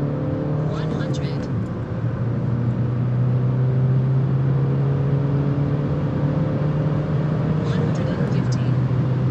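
A BMW E87 123d pulls hard from 100 to 200 km/h in third gear on the Autobahn. Its engine drone holds steady and slowly rises in pitch, loud and continuous from inside the cabin, with a faint voice over it.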